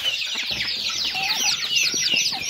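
A bantam hen clucking among her new chicks on a small poultry farm, with constant high, close peeping from the chicks and occasional low clucks from the hen.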